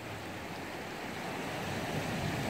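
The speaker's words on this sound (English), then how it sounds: "And you see the waves rolling in this morning." Pacific Ocean waves rolling onto a small cove beach on a Maui morning, a continuous broadband wash of surf with light wind, no voices.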